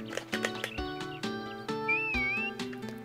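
A horse in the farming video game Harvest Moon: A Wonderful Life gives a whinny over a light melodic game music background, with a whistling tone and soft clip-clop touches.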